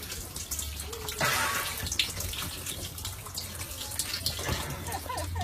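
Petrol runs and drips from a cracked car fuel pipe in a steady close trickle, a continuous wet splatter that swells briefly a couple of times.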